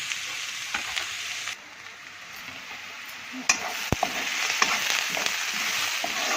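Onions fry in a pan for a drumstick curry, a steady close sizzle with occasional clicks and scrapes of stirring, and no one talking.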